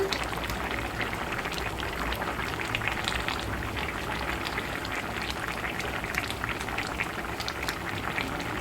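A pot of Ragandi fish curry simmers at a steady rolling boil over medium heat, with dense, continuous bubbling and popping held close and loud throughout, and no voices present.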